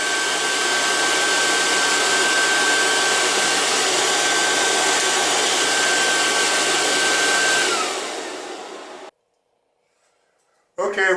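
An Air Venturi Nomad II portable compressor runs loud and steady with a constant whine for about eight seconds, then winds down and cuts off into silence before a brief burst of noise returns at the end.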